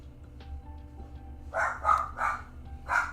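A dog indoors lets out four quick barks in a row over a low steady hum, moderately close and fairly loud.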